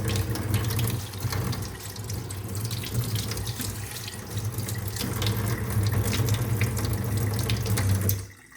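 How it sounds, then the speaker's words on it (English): A Lefton KS2207 waterfall faucet runs steadily into a kitchen sink, a continuous close splashing stream for several seconds that stops abruptly at the end. "Then this final key is for the Waterfall Faucet."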